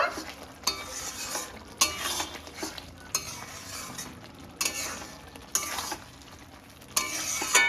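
A spoon scrapes and stirs a potato and pointed gourd curry with ghee and garam masala in a pan, in repeated scraping strokes about once a second over a soft background sizzle.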